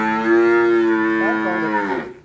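A head of cattle on a Vĩnh Long cattle farm lets out one long, loud, close moo that rises and then trails off, with no other sound around it.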